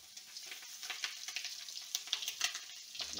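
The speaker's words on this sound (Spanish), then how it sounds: "pasar los trozos por la harina y colocarlos a freír" Flour-dredged chicken pieces frying in hot oil, giving a bright, crackling sizzle with scattered pops over a few seconds, close and fairly quiet.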